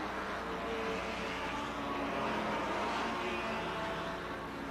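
Racing cars of the 1957 German Grand Prix at the Nürburgring Nordschleife, including stripped-out sports Porsches, make a continuous engine roar and hiss, steady and moderately loud, like an old broadcast recording.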